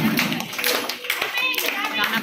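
Schoolchildren clap along at an Independence Day song event at an international school in India, a brisk patter of many small hands close by, mixed with children's voices and chatter throughout.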